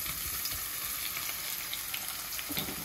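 Chopped garlic and onion fry in hot oil in a pan for a Bengali Tengra fish curry, giving a close, steady, continuous sizzle with faint crackles throughout.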